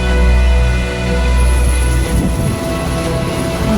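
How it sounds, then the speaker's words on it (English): A large Swedish Armed Forces military helicopter, loud and close, produces a steady, dense engine and rotor roar with a constant drone that holds throughout. "That's a huge chopper."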